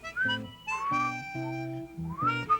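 A boy whistles a short bouncy tune over a light, plucky musical accompaniment, bright rising notes in brief phrases, close and clear.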